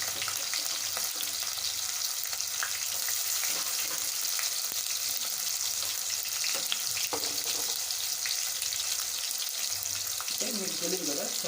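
Onions frying in a pan as the base for a fish curry give a loud, steady, continuous sizzle that holds unbroken throughout, with occasional faint clinks and stirring touches underneath.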